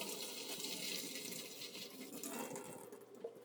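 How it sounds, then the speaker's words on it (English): Dirty water poured down a utility room sink, a steady broadband splash and gurgle running continuously at moderate level, close by. "I'm going to go and pour all of that dirty water down there"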